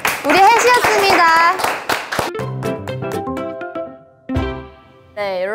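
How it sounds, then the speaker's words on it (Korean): Brief applause of close hand claps in a creative academy classroom, overlapped by children's and adults' voices talking, then fading into tonal, speech-like sounds. "박수."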